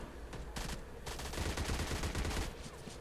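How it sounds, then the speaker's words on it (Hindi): Video game gunfire crackles in dense, overlapping bursts, with steady rapid shots rattling on for a few seconds at moderate loudness. "यहाँ एक बहुत गंदा फायर"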